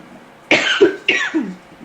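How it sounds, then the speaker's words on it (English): Two sharp, close coughs come in quick succession, each a harsh burst trailing into a rough, raspy tail. "This is when my cough kicks in"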